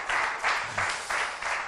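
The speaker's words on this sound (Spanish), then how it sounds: "denle el aplauso al Espíritu Santo" A church congregation breaks into applause during a sermon, brief rhythmic bursts of massed clapping pulsing in waves over under two seconds.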